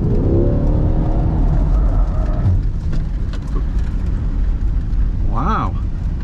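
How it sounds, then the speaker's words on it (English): A Chevrolet C8 Corvette pulls hard at full throttle around a cone, its engine loud and close with a rising then falling tone and a brief rev near the end, while a person talks over it. "I'm going to be full throttle when I go around that second, that single cone out there"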